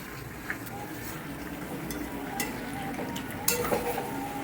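Chicken sizzles gently in a pan while being stirred for a Bengali curry, steady low frying hiss with sharp scrapes and clinks of a spatula against the metal.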